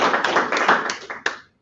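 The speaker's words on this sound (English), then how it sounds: "let's give Harry a round of applause" A short burst of clapping from a small conference audience, quick uneven claps that fade out after a sharp final clap.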